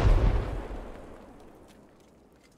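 A grenade explodes in the military shooter Squad: one loud close blast that slowly dies away into near silence, then a sharp new crack right at the end.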